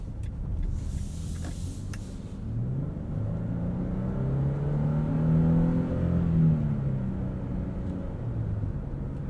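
A 2022 Nissan Frontier PRO-4X's V6 engine, heard muted from inside the cabin while driving, hums quietly and rises in pitch under acceleration before easing off.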